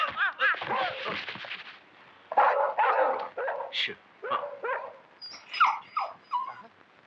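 A dog barks in short bursts while chasing a man who yells in panic, barks and whimpering yips mixing with his frantic shouting, loud and close.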